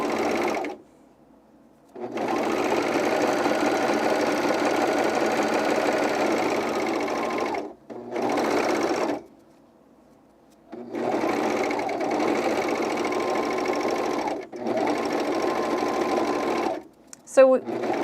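A serger runs in several bursts through underwear fabric, its motor whirring steadily for a few seconds at a time with short pauses between, close and loud, ending in faint clicks.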